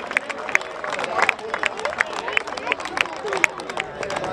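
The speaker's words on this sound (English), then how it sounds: "Can we have a loud round of applause for the fourth place in under 10 Evolution" Applause from a crowd at a youth football league prize ceremony, honouring the fourth-place under-10 team, with steady clapping and scattered sharp claps over crowd babble.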